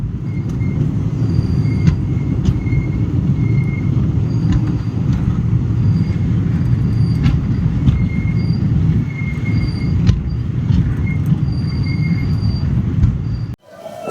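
Kacheguda-Chengalpattu Express train running, a loud continuous rumble of wheels on rails heard from on board, with faint squeals and clatter throughout before it cuts off abruptly at the end.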